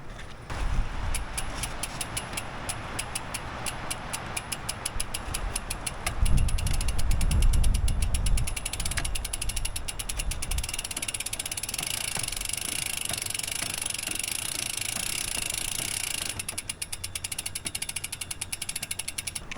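Bicycle chain and drivetrain ticking steadily while a dusty trail bike's gears are lubed outdoors, a fast, continuous ratcheting freewheel clatter running throughout, with a few louder rustling bumps partway through.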